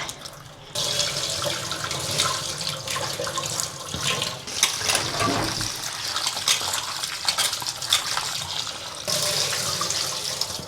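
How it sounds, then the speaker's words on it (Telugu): Running tap water splashing steadily and loudly while goat legs are washed under it at a sink, continuous gushing with shifting splashes from handling. "ఇదంతా ఇంట్లో ఏమైనా క్రీములు ఉన్నా పోతాయని కడుగుతున్నా"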